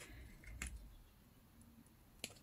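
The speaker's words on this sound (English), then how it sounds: "with my scissors I'm gonna cut the corners" Scissors snip the corners of folded paper, two quiet crisp cuts spaced apart against near silence, close and faint.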